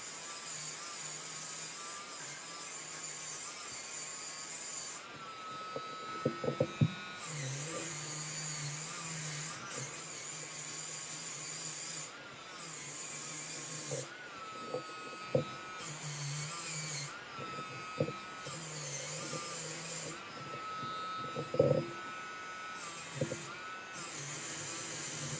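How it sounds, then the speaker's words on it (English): A power burnisher polishes metal after a patina finish, its motor whining steadily with tonal hum, switching on and off in several bursts with brief pauses and small clicks between runs. "I'm going to do the rest of my polishing with a burnisher"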